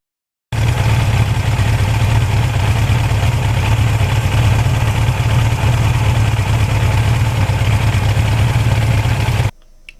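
A 41-year-old Suzuki GS1100E motorcycle with 76,000 miles and its original owner runs its engine in a steady, loud, deep rumble that holds evenly for about nine seconds before cutting off.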